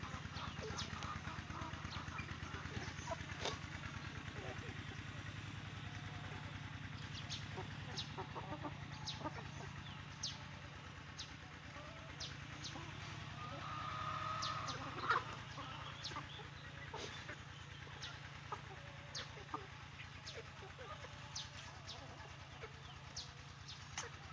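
Free-range chickens on a Thai backyard farm cluck and call faintly over a steady low hum, with scattered pecks and short bird calls throughout a long, quiet stretch.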